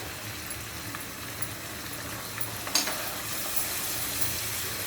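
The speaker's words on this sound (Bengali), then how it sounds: "এখন মশলাটা কিছুক্ষণের জন্য ভেজে নিব।" Homemade spice mix, made without dried chilies, fries in a pan for mixed vegetables, giving a steady close sizzle with a few light stirring scrapes throughout.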